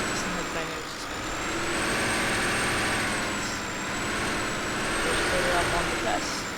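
A modded truck engine in Farming Simulator 19 starts up and settles into a steady, fairly loud idle with a faint high whine and a hiss like an air brake, while someone talks over it.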